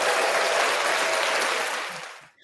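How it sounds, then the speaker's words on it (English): An audience claps to welcome a speaker at a live talk, a dense, steady round of applause that stays full and then quickly fades to silence. "I like that clapping"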